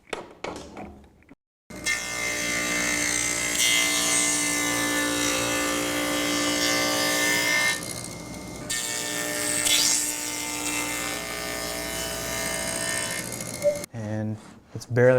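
A power saw with a lowered blade cuts notches into the edge of a wooden board for a bench-top Moxon vise accessory, making a loud sustained whine with a brief dip midway before stopping near the end.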